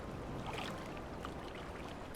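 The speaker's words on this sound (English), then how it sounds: "Ooh, listen to those rolling waves." Rolling waves wash steadily along a shore in Final Fantasy XIV, a soft continuous surf with a faint watery trickle throughout and a brief tick near the end.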